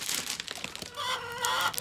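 Backyard chickens clucking and calling close by as old grapes and cilantro are brought out to them, a busy stretch of short clucks followed by a longer drawn-out call, with no talking.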